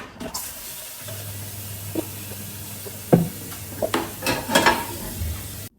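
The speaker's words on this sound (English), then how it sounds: "now I'm going to do the dishes. I'm going to do the washing up." Dishes being washed by hand in a kitchen sink after lunch, with a steady low hum of running water throughout and scattered clinks and knocks of crockery near the mic, growing busier toward the end.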